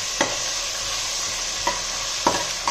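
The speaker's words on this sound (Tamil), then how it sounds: "வெங்காயம் வந்து நல்லா ப்ரௌன் கலர் வர வரைக்கும் நம்ம நல்லா வதக்கணும்" Onions with ginger garlic paste sizzle steadily in a pan while a spoon stirs them, giving three distinct scraping strokes over the constant frying hiss.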